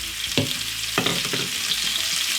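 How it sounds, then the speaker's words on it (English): Sliced onion drops into hot oil in a pot for chicken pilau, giving a steady crackling sizzle with a few louder bursts as it is stirred, and no talking. "right away, I'm going to add 1 large onion sliced"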